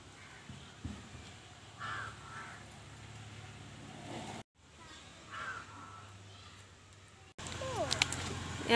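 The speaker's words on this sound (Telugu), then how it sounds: "కాకిలు వచ్చి తింటాయో లేవో మీరే చూడండి ఫ్రెండ్స్" Crows caw in short bursts as they come to eat rice set out for them, with steady outdoor background noise and a sharper, louder stretch near the end.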